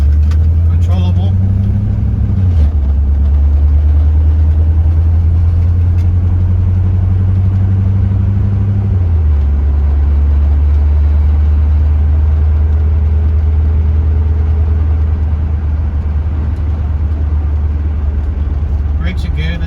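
A 1980s Corvette sports car, about 40 years old, is driven through turns. Its engine gives a close, steady, loud drone that shifts pitch twice as the revs drop, then settles into an even cruising hum.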